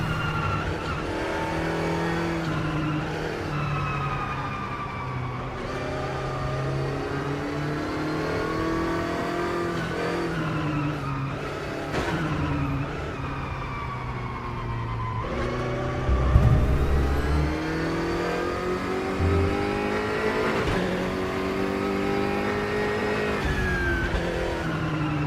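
A race car engine in RaceRoom Racing Experience howls continuously through a lap, with pitch rising and dropping through gear changes and downshifts and occasional tire scrubbing, loud and steady throughout.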